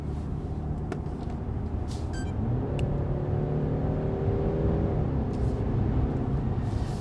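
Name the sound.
BMW 530i xDrive car driving on the road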